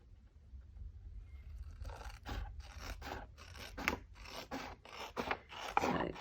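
Scissors cut paper for a decorated flip envelope for a tall journal: about nine crisp, close snips in a steady rhythm, each a short rasping burst.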